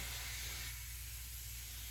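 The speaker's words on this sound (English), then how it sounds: "Put my airbrush up a little bit, clean off my needle" Paint mixed with Createx 4011 reducer sprays from an airbrush in a steady close hiss that holds evenly for two seconds, set against a low hum and with no talking.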